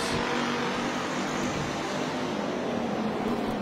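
Race cars at Antioch Speedway roar in a steady, dense engine drone. The sound is loud and continuous, like a full field circling together, with no talking.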